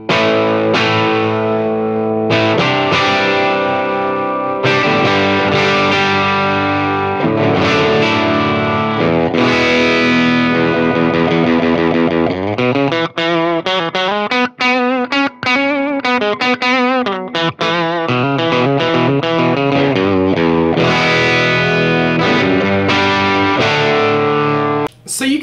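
Electric guitar through a Monoprice Stage Right 15 small tube combo amp with everything turned up, playing distorted chords and fast riffs at loud volume, continuous and close.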